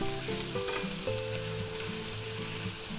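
Onions fry and sizzle steadily in a pan for a vegan burrito filling, a constant close hiss with soft stirring scrapes and low clinks throughout, no voices.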